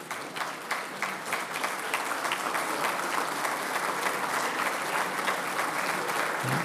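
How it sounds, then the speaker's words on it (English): A round of applause at the GAA Champion 15 awards ceremony at Croke Park, a large seated crowd clapping steadily and fairly loudly, sustained and even throughout. "give a round of applause to those at your table who have contributed to your success"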